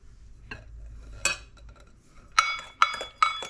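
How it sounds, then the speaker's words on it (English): A spoon stirs blueberry muffin batter in a mixing bowl, giving soft scraping and then several sharp clinks against the bowl in an uneven rhythm, close and fairly loud, with no talking. "You give that a good mix."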